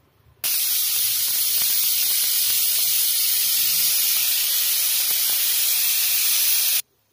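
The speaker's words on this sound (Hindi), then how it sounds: "अब इसको हमने 2 विसलें लगवा लेनी है।" A pressure cooker on a gas stove hisses loudly with a sustained steamy whistle while matar paneer with peas cooks, starting abruptly and stopping sharply after about six seconds.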